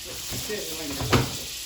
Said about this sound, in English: Add the rest of this butter.